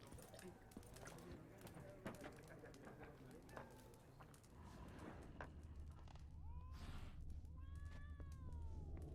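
A cat in The Witcher 3 meows a few times near the end, short rising cries over a low ambient rumble and game background noise.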